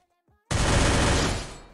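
Gunfire in the mobile battle-royale game Free Fire starts abruptly after a faint lead-in: one loud, dense burst of rapid shots that sustains for over a second before beginning to fade.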